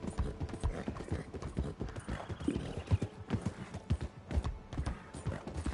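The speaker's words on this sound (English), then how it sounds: "your horse doesn't want to run too fast." Horse hooves clopping in a quick, irregular rhythm across a bridge in Red Dead Redemption 2, close and fairly loud, a continuous run of clip-clop beats with no talking.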